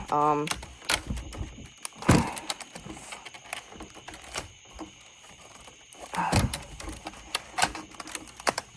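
Plastic creaks and sharp snaps as a keyboard is pried off a twenty-year-old computer by hand, with scattered clicks and rattles and two louder cracking bursts, up close, while a person talks.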